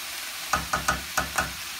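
Sliced papaya stirred into a hot pan with fried dried fish, a steady sizzle broken by five evenly spaced scraping stirs of a utensil, close and alone with no talk.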